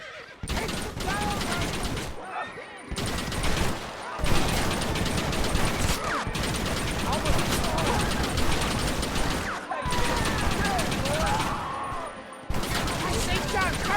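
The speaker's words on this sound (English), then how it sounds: "Why are they all shooting at me?" Gunfire in the western video game Red Dead Redemption, with sustained bursts of shots alongside horses neighing and hooves clopping, loud and busy, broken by a few brief gaps, with voices shouting at times.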